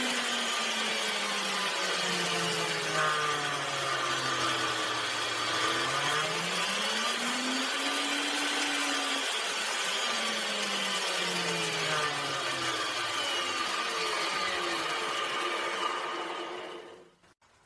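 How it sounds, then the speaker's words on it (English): A homemade wood milling machine's router runs steadily on a speed regulator, its motor whine sweeping lower, then rising and settling, loud and continuous before cutting off at the end. "And now I'll show you how our router's speed changes."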